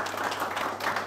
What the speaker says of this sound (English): Give them both a round of applause.